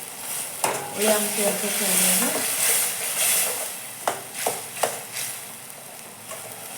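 A pan of curry sweetened with jaggery begins to boil, giving a close bubbling sizzle with a few stirring knocks as someone talks over it.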